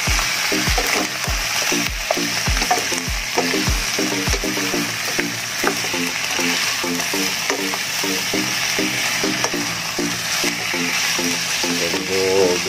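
Native chicken sautéing in a pan for tinola, with a steady close sizzle and repeated rhythmic scraping stirs that come loud and quick early on and then continue more loosely.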